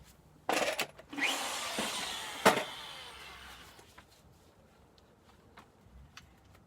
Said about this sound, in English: So now we're going to drill out our pilot holes.